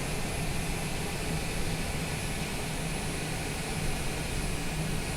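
A small airplane taxis after landing at Salem airport in Oregon on a windy day, its engine making a steady loud drone with no break.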